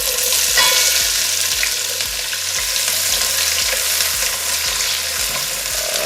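Onions hit a hot pan and fry with a loud, close, continuous sizzle, while a faint regular low thumping repeats underneath throughout; no voices.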